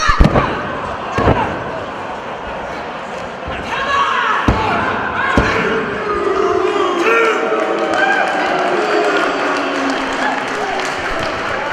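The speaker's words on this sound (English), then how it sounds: "The crowd cheering." Crowd at a women's wrestling title match cheering and clapping under a commentator's steady talk, with heavy thuds of bodies hitting the ring mat early on and a continuous arena roar behind.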